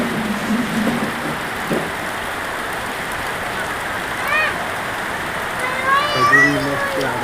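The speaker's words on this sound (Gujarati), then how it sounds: "ફૂલ વરસાદ ચાલુ છે." Heavy rain falls steadily during a monsoon downpour, a close, constant hiss throughout, with faint children's voices and a passing car in the background.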